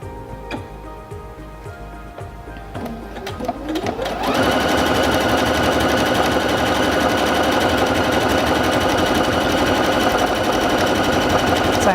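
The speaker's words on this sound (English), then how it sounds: "When you're sewing a stitch and you want to stop, you can press this button and it will pause, tie off the stitch, and stop sewing." A Singer Featherweight C240 sewing machine starts with slow ticking stitches, then speeds into a steady, loud whirring run that continues without pause.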